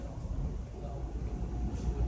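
A Toronto subway train rumbles along the track, a steady low rolling drone heard from inside the car with a faint hum and hiss over it.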